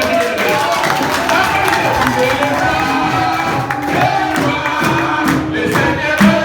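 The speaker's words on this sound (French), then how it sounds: "Applaudissez pour Jésus." Church congregation clapping and cheering for Jesus amid music, a busy mix of crowd voices, hand claps and instruments, loud and continuous.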